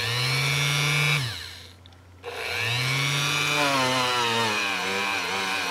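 A handheld Dremel rotary tool polishes a small polymer clay egg, giving a loud, steady high-pitched whine that cuts out for about a second and then spins back up, running alone with no talk.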